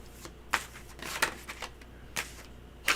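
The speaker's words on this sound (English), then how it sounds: "Shuffle. Oh, gosh, this ginormous deck." A large, oversized tarot deck is shuffled by hand, giving several separate riffling bursts with short pauses between them, close and fairly quiet, with no talking over it.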